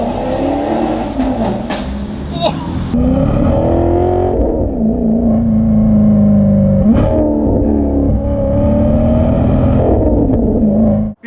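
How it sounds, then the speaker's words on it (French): A supercar engine revs loudly and continuously, its deep growl rising and falling with sharp throttle blips at several points and holding steady between them, up close with no talking over it. "la voiture, très très belle, elle fait un bruit de malade"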